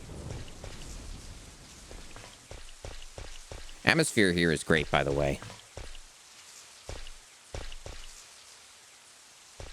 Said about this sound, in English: Very good rain looping here and storm sounds